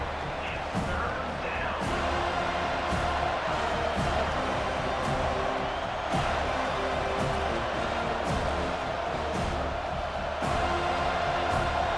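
A steady stadium crowd roar from a College Football 25 video game matchup between NC State and Florida State, sustained and loud throughout under a commentator's play-by-play talk.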